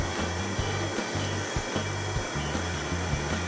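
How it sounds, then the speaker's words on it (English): Cement mixer drum turns steadily while churning a dry boilie base mix, giving a loud continuous droning whir with a low rhythmic rumble and periodic soft thumps from the tumbling powder. "Mixing that up's a lot easier using the cement mixer."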